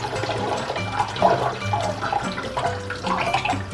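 Soaking water from rice and urad dal being poured out in a kitchen, a steady splashing gush of liquid running continuously and fairly loud, with no talking.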